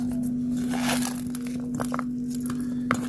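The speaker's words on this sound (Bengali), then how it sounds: "এটা ভালো করে হাতে করে চেপে চেপে মেখে দেবো যাতে পুরো কামরাঙাগুলো সব কিছু মশলাটা ভালো করে যায়।" Star fruit pieces are squeezed and mixed by hand with salt, chili powder, sugar and kasundi mustard, making irregular close wet crunching and crinkling sounds over a steady electrical hum.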